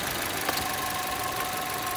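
Steady, quiet idle from the 1.6-litre engine of a 2010 Chevrolet Cruze LTZ automatic, an even low hum heard close with a faint tick near the start and no voices.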